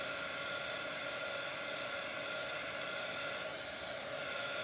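A hair dryer blows steadily to dry shimmer chalk paste on a St Patrick's Day welcome sign, a constant loud hissing whoosh with no pauses and no talking.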